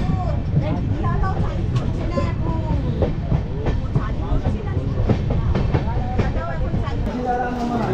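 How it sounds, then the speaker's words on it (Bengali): The Amrit Bharat Express, train 13434, runs fast with a continuous rumble and rhythmic clickety-clack heard from inside a carriage, while voices talk over it. "ট্রেন একদম চলছে দুরন্ত গতিতে।"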